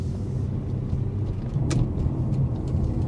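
A 2004 Honda Accord EX V6 on the move, heard from inside the car: a steady low engine hum and road rumble, with a brief click partway through.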